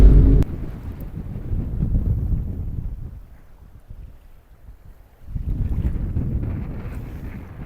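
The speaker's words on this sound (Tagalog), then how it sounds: "Mahangin kasi, maalon" Strong seaside wind in Umluj, Saudi Arabia, with choppy sea, buffets the microphone in a steady low roar that eases midway and then returns at full strength.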